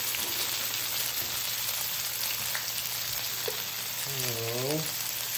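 Precooked potatoes fry in a pan to brown their cut sides, a steady loud sizzle throughout, with a short voice-like tone rising near the end.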